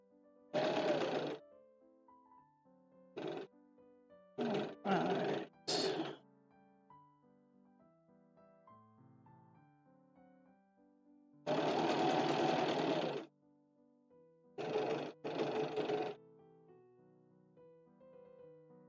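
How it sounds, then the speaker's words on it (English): Sewing machine stitching a stretch velvet bodice, running in several bursts of varying length, including one long run near the middle, separated by quiet pauses, fairly close and clear with no talk. "I know I just sewed over my pins there"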